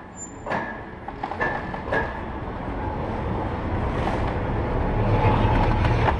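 Mail Rail, a small underground train running through tunnels beneath London: a loud, continuous rumbling roar that builds steadily, with a few clanks and squeals near the start.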